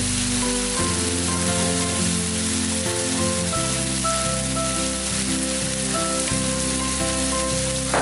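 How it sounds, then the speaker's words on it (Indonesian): A spice paste of ground chili, shallot and garlic fries in a pan with a steady, even sizzle that runs throughout, under background music with sustained tones and no talking. "Setelah kita goreng bumbu yang tadi, bumbu uleknya, selanjutnya kalau udah wangi dan juga kering"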